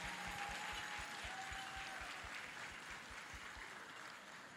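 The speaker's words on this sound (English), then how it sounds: "Let's give them another round of applause." Faint, distant audience applause for performers at a cultural festival, a steady wash of clapping under a low rhythmic thump and a few voices, slowly tapering.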